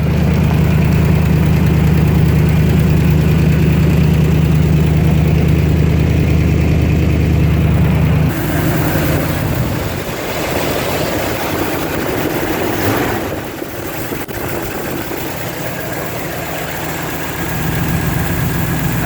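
A 1974 Chevy K10 truck with 61k original miles idles after a cold start, its steady low engine rumble running alone at close range and shifting tone partway through.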